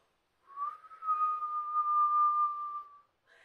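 A person whistles a single long, steady tone that imitates the wind, starting with a short rising note and then holding one clear pitch for about two seconds in a quiet room.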